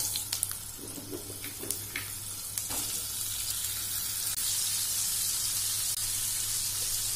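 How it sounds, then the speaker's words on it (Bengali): Moringa drumsticks fry in oil in a wok, a steady close hiss and crackle that swells into continuous sizzling, with a few clinks and knocks at the start as they are added. "এবার আমি এই কড়াইতে সজনে ডাঁটাগুলো দিয়ে ভেজে নেব।"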